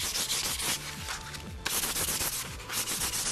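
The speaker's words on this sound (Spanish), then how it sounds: "Vamos entonces a lijar muy bien." Hand sanding of an MDF wood surface, a steady close scratchy rubbing in repeated back-and-forth strokes with a brief pause midway.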